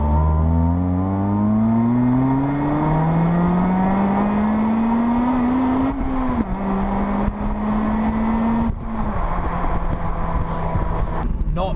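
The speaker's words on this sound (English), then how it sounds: "That exhaust note." A Honda Civic Type R FN2 climbs through the revs on the road, its exhaust note rising in a smooth whine before dropping at each gear change, loud and close with wind noise beneath.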